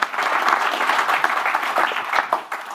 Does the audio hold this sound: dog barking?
no